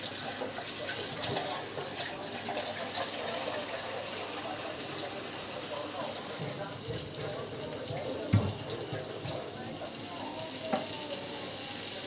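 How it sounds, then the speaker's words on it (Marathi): Water poured into a cooking pot over frying masala while making chicken biryani, a steady close splashing rush with sizzling underneath and a sharp knock near the end. "पातेल्यात धुवून थोडंसं पाणी टाकते."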